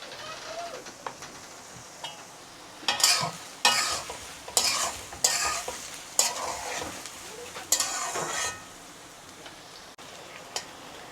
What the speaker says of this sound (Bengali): আপনারা পেঁয়াজ কুচিগুলো চুলার তাপটা হালকা তাপে রেখে এভাবে আস্তে আস্তে করে ভাজে নেবেন।